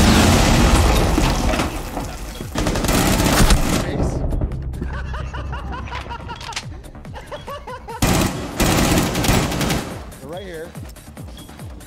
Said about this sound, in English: He shot his own grenade.